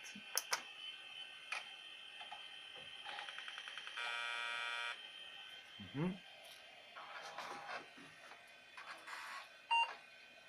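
An old 386/486-era PC boots from its newly added hard disk after a reset, giving a series of beeps, buzzing tones and clicking drive-seek noises over a quiet background hum.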